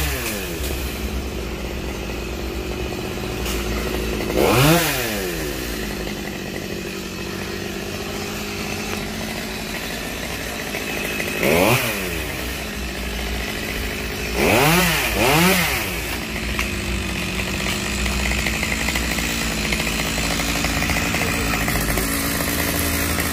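A chainsaw cuts down a tall eagle tree roughly 12 metres high, its engine droning steadily throughout with three distinct revving surges, loud and fairly near, with no talk.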